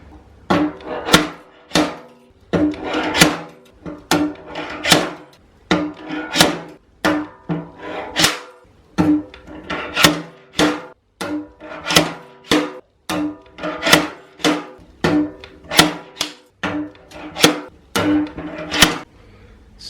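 Spot-weld dent puller working small sharp dents out of a car body panel, a rhythmic series of sharp knocking and snapping pulls repeating roughly every second, close and loud, with no talk.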